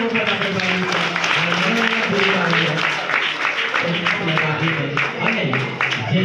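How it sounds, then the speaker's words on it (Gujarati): Loud, steady applause from a crowd at a school admission festival for young children, with clapping running throughout and a voice speaking over it. "તો જોરદાર તાળીઓ ફરી એક વખત આપણે પાડીશું."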